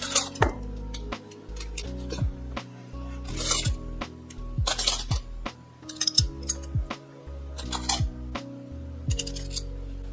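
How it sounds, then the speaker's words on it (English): Silver plate teaspoons clink and jingle as they are picked up and dropped into a pile, with repeated bright metallic taps in irregular bursts, close and distinct with no talking. "pick up random teaspoons and just put them in the dollar pile"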